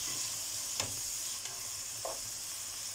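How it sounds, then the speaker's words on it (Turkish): Peppers fry in a pan for a Turkish cabbage stew and rice dish, a steady close sizzle with occasional scrapes and clinks of stirring, no talking. "Biberi de kızartalım."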